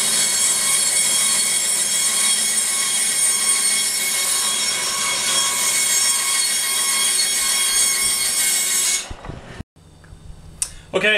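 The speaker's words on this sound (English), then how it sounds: "We're going to take this over to the bandsaw, cut it out" A bandsaw cuts through an oak wine barrel head, a close, steady high-pitched whine with a gritty edge lasting about nine seconds before winding down, followed by brief clatter and handling sounds.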